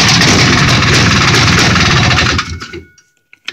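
A small Yamaha Bravo two-stroke engine runs with a loud, buzzy rapid putter close to the microphone, then cuts out after a couple of seconds, leaving brief faint clicks and rattles.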